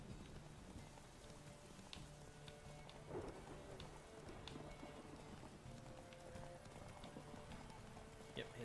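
Rhythmic clip-clop of horse hooves trotting steadily at moderate volume in The Witcher 3: Wild Hunt, over a soft rain-like background hiss.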